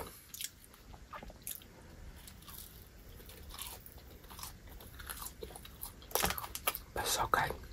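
Close-up eating of McDonald's fries dipped in a milkshake: soft crunches, bites and wet chewing, quiet at first and louder toward the end, with faint whispery speech now and then.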